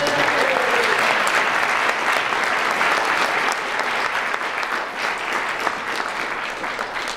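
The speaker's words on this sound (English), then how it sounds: "we'll all give you a round of applause" An audience at an atheist lecture event gives a round of applause for a donor, steady sustained clapping from a sizable crowd that tapers slightly toward the end.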